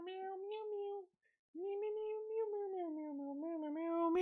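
A long, drawn-out cat meow with a brief pause, then another extended wavering meow, close and fairly loud. No talk.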